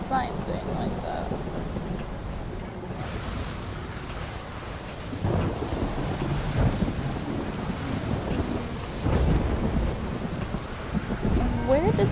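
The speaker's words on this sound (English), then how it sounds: "Where did the storm come from and why are you still flying?" Thunderstorm with steady rain in the game Ori and the Will of the Wisps, a constant hiss of rainfall broken by rumbling thunder swells, with faint game sounds behind it.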